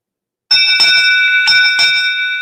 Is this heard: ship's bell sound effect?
yes